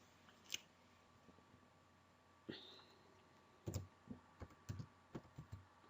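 Scattered key clicks on a computer keyboard as a file name is typed, sparse at first, then a quick run of taps toward the end, close and fairly quiet.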